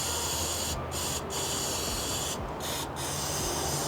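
Lubricant sprayed into a motorcycle tire on a supermoto rim, heard as loud, continuous hissing spray bursts close by across the whole stretch, with brief breaks in the highest hiss.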